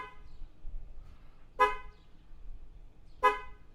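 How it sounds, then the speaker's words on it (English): BYD car horn sounded remotely from a phone app, two short separate toots about a second and a half apart, moderately close against a quiet background. "The horn."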